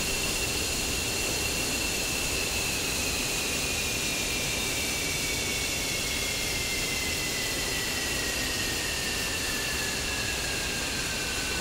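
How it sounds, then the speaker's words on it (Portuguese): An F-15C jet engine shuts down in the DCS World flight simulator: a loud, steady roar with a high turbine whine that slowly slides downward as it spools down, with no voices. "Desligando o motor direito."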